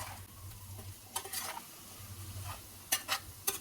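Potatoes and masala cook in a pan over a quiet, steady sizzle, with a few clattering stirs and scrapes of a utensil against the pan surfacing now and then, close by.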